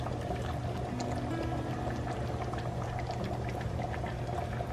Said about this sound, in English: what I do is I add the tomato sauce